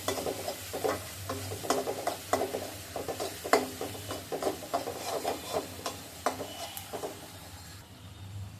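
Ingredients frying in caramelized sugar in a pan, stirred with repeated scraping clatters over a steady close sizzle; no talking.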